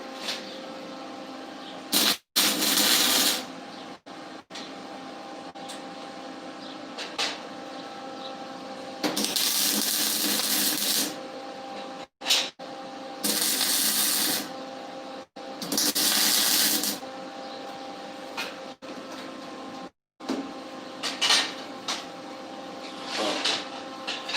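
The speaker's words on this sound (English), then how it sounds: "we're welding this piece, which is pretty much an 1/8 inch to it. So tacking it on here right now" Tack welds on a 1/8 inch metal piece joined to thicker 1/2 inch stock: several short bursts of loud crackling hiss, each a second or two long, separated by quieter gaps.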